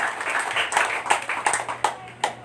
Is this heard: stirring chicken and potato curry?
no